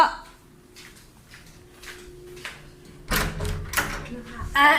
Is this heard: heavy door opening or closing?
yes